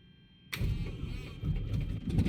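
A Piper XCub engine in Microsoft Flight Simulator 2020 cranks and catches after a brief quiet moment, then settles into a rough, throbbing idle close by.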